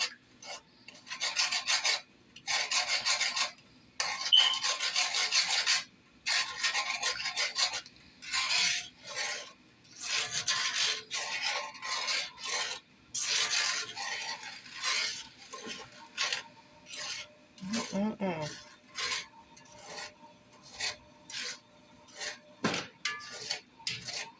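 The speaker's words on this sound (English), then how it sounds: "Stir this up until everything is melted down real good." A utensil rasps and scrapes repeatedly against a pan while chicken and sweet potato bake ingredients are stirred until melted, in short rhythmic bursts separated by brief pauses, close and clear with no talking.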